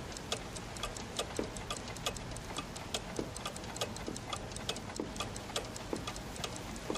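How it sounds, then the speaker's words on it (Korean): A clock ticks steadily and evenly, about two ticks per second, close and fairly quiet, running alone without any voices throughout. "그것은 마크하임의 귀청을 때리며 째깍째깍하는 시계소리와 뒤섞였다"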